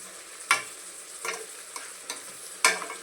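Brinjal masala stirred in a pan with a spatula, giving several distinct scraping strokes at an irregular, unhurried pace over a soft sizzle, close and fairly loud.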